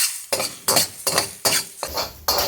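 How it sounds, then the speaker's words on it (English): Egg frying in a wok while being stirred with a metal utensil for pork fried rice, giving six loud, evenly spaced scraping strokes close by over a soft sizzle, with no talking. "we're going to continue cooking this egg just until it's fried through"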